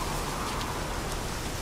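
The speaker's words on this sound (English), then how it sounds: "Rain, rain and more rain." Rain falls in a video game as a steady, dense hiss with no breaks, fairly soft and continuous throughout.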